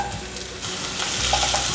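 Carrot slices stir-fry with ginger slices in a hot pan, a steady close sizzle that swells a little halfway through, with faint scraping as the vegetables are turned.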